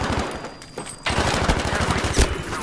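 Rapid bursts of Suomi submachine gun fire in the World War II shooter Battlefield V, loud and close, stuttering rhythmically after a short lull with dense overlapping shots and no talking.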